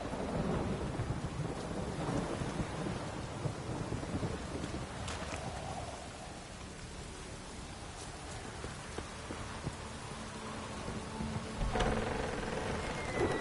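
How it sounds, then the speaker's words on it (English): A thunderstorm in the video game The Witcher: steady heavy rain pours on surfaces with wind, while rumbles of thunder roll through at a distance, with no voices. "A storm, damn it."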